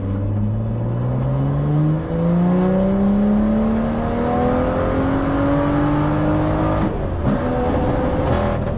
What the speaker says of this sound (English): I'm really liking the burbles on this map